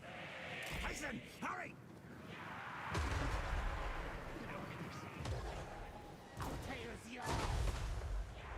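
Plague Claw artillery fires in a Total War: Warhammer 3 battle, heavy booming shots and crashes rolling over a dense battlefield din, with a voice talking at the same time.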